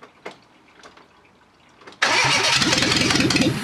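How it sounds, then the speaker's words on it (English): A Fiat Panda 4x4 engine cranks and fires, jumping from quiet clicks and faint sounds into a loud, steady running roar that continues to the end. "Ignition and firing."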